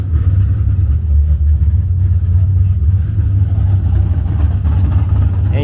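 Pro Stock drag racing cars at a drag strip produce a loud, steady low rumble of engines, continuous and heavy throughout with no talk.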